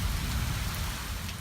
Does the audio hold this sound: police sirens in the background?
no